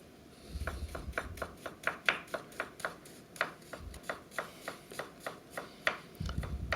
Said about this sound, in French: On va ciseler l'échalote.